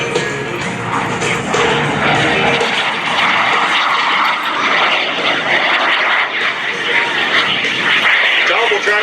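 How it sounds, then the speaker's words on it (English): A mini jet aircraft pulls a high-G 360-degree turn at a Texas airshow, its engine a loud, continuous roar. The pitch shifts as it moves through the turn, and an announcer talks over it. "showing you the high-G maneuvering of this mini jet aircraft"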